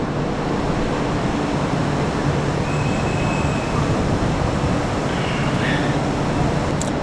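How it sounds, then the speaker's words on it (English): A Chinese high-speed bullet train pulls out of a station, heard as a steady, loud rumbling wash of rail noise with faint high squeals drifting over it. "Let's see the train pulling out of the station."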